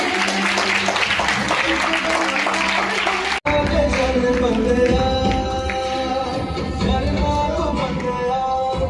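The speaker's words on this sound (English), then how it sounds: "Please give him a round of applause for the parents." A crowd at an academy awards ceremony applauds steadily for students' parents for a few seconds before an abrupt cut, after which loud music with a strong beat takes over.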